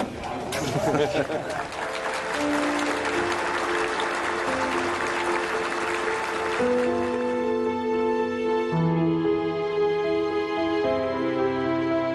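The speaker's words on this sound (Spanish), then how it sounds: "Isso foi muito ovacionado, muito aplaudido o senhor." Audience applause and ovation at a round-table panel discussion on environmental thought, dense clapping loudest in the first few seconds, then sustained musical tones take over and continue to the end.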